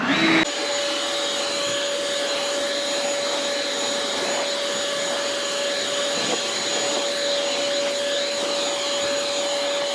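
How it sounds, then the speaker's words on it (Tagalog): A leaf blower gives a loud, steady motorized whine with a constant high-pitched tone, droning continuously and close by after a brief start, on a lawn in Edmonton, Alberta. "Blower."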